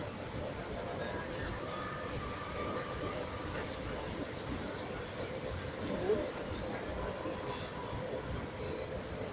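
An electric commuter train rumbles steadily along, a constant broadband roar with light rattling and occasional faint squeals of wheels.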